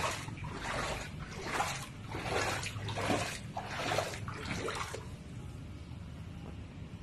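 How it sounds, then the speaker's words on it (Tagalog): Running water surges in from a pipe in strong, uneven gushes for about five seconds, then drops to a faint trickle, heard close up and alone. "Ay, may tubig na."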